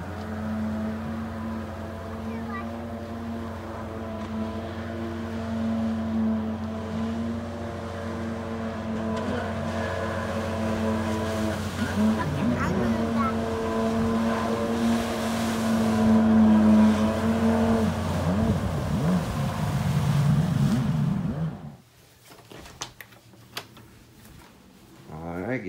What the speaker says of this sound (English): The two stroke sounds sweet.